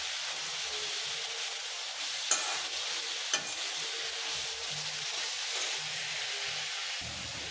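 Bitter gourd sautéing in oil in a pan, a steady soft sizzle with a couple of brief clinks of a stirring spoon, heard alone with no talking.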